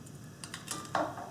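Bonsai snips cut through a small branch while potting a bonsai: a quick series of faint, crisp clicks and one slightly louder snap, close and alone.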